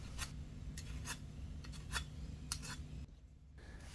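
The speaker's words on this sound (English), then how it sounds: "And then I sand the bridge. Going from coarse sandpaper to finer sandpaper." Sandpaper rubbing on a wooden violin bridge in a workshop: a series of short, scratchy strokes in an irregular rhythm over a low background hum, ending with a brief quiet gap.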